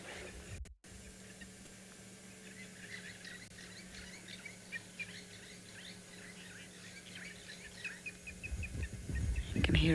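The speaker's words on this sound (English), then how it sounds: "You can hear all the other birds twittering in the background." Birds twitter faintly in the South African bush during an afternoon safari, small scattered chirps over a low steady hum, with a brief thump and a rustle near the end.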